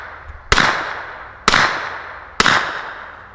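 Three suppressed shots from a Wolfpack Armory Whisper Pickle rifle firing 147 grain ammunition, each a sharp, loud pop with a short fading tail, evenly spaced about a second apart.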